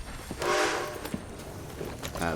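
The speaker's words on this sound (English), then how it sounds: "Thanks for stopping, train. How thoughtful." A steam train in the video game Red Dead Online sounds its horn in bright blasts over a low rolling rumble as it passes, with a faint voice in the background.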